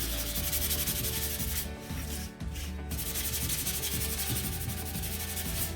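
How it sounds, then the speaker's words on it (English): Sandpaper rubs back and forth over a laser-cut wooden kit piece in a steady, continuous rasp, close and loud, pausing briefly midway before resuming. "I'm just gonna give it a sand here."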